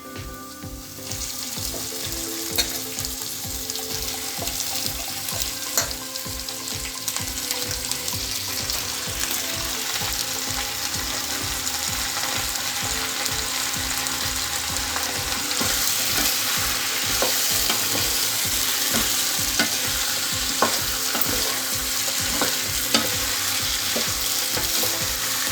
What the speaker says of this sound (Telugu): ఇప్పుడు నాటుకోడి చికెన్ వేసుకుందాం.